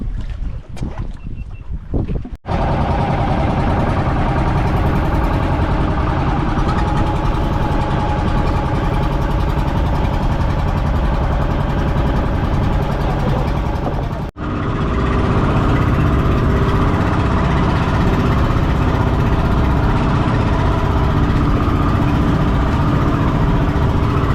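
A fishing boat engine drones steadily at close range, a continuous low rumble with wind and water noise; it briefly cuts out early, then runs on uninterrupted.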